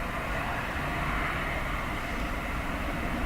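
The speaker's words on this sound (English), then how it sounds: "Very sideways departure for that ATR." An ATR turboprop airliner departing in strong crosswind and rain at Dublin Airport, its steady engine drone heard from a distance under wind noise.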